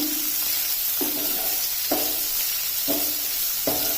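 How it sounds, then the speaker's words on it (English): Onions frying in a pan over medium heat: a continuous close sizzle with broadband hiss, broken by four regular stirring scrapes roughly once a second, with no talk. "you have to fry onions till they are nice and brown"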